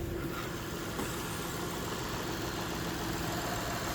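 The engine of a 2006 Lexus RX 330 AWD SUV idles with a steady, faint hum, smooth and unchanging, with no voices.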